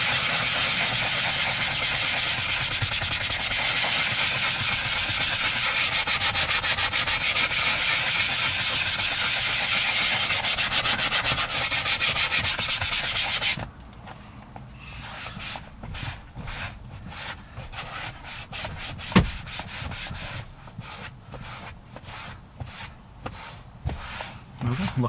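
A detailing brush scrubs a leather car seat. The first half is a dense, steady scratchy rubbing, and after that it becomes quieter, intermittent strokes.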